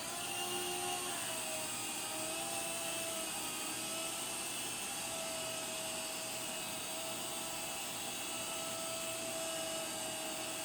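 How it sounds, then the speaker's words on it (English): A cheap HX 721 mini three-channel RC helicopter hovers indoors, its small rotor and motor giving a steady, high whining buzz that holds level and close throughout, with no voices. "so you see, you can fly a 3-channel helicopter really well"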